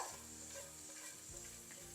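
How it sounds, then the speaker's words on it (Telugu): Quiet sizzle of garlic frying in oil, a soft continuous crackle with faint stirring, close by and without voices. "కొంచెం ఆయిల్ వేద్దాం మంచిగా దూరగా ఎర్రగా అయ్యేంత వరకు వేయించాలి"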